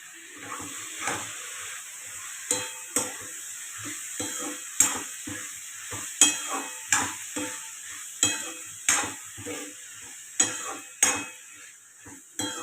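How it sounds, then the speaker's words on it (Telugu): Chopped green chillies, tomatoes and onions frying in oil, with a steady soft sizzle beneath regular scrapes and clinks of a spoon stirring in the pan, close and without talk. "ఈ వేగిన దాంట్లో మనము ముందుగా తరిగి పెట్టుకున్న పచ్చిమిరపకాయలు టమాటాలు ఉల్లిపాయలు వేసుకోవాలి"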